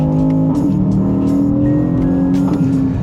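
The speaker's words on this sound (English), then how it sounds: "This one also gets a reworked exhaust system, which sounds fucking awesome." An Aston Martin DBX S with a reworked exhaust system rumbles loudly and steadily up close, its engine note rising and falling across a few seconds.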